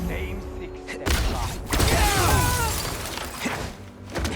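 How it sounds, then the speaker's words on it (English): Glass shattering in the video game Spider-Man 2: a sudden loud crash with clattering, tinkling shards and mechanical rumble, then settling debris and a later thud. "This glass looks pretty breakable."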